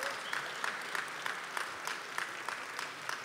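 At a Hungarian folk song and operetta evening, a concert audience applauds with faint, somewhat distant clapping, including a loosely rhythmic, unison beat pulsing throughout.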